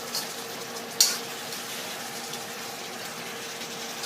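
Pork bones stir-fried with curry paste, heard as a soft steady sizzle with one sharp scrape or clatter of the spatula about a second in.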